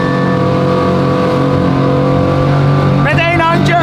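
A supercar that needs no driver's licence and handles like a jet ski, engine droning loudly and steadily while doing a donut, rising into a revving whine near the end, with someone talking over it.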